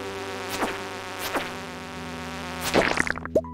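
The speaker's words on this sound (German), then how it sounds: "So blöde Fliegen." Flies buzz from a fly nest in the farming game Stardew Valley, a steady insect drone with a few louder whacks and flutters close by near the end.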